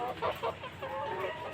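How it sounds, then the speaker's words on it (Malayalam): Native country hens in a backyard coop give a few soft, close clucks in quick bursts, then a lower, continuous murmur of fowl sounds, fairly faint overall. "ഇതും നമ്മുടെ നാടൻ കോഴികളാണ്."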